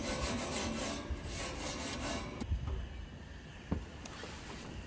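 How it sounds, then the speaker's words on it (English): A piece of onion is rubbed across a preheating barbecue grill grate, giving a continuous close scraping rub over a steady hiss, with a couple of soft knocks toward the end. "if I have a little piece of onion kicking around, I like to do a little rub on my grill"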